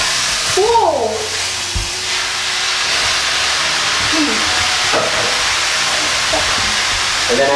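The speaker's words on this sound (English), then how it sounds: "once we've strained our noodles, we're just gonna add them into the skillet with the tofu" Strained rice noodles dropped into a hot skillet with tofu, a loud, steady steamy hiss and sizzle that persists throughout, with a few brief vocal exclamations over it.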